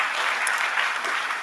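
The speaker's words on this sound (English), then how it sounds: "you should give AU leadership and student leadership a round of applause" A short burst of applause from a crowd at a university job fair, even and moderately loud, with no voices.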